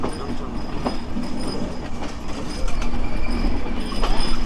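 The Madhumati Express from Rajshahi to Dhaka rumbles along the rails in Bangladesh, its wheels clattering in a steady, close rhythm that grows a little louder partway through.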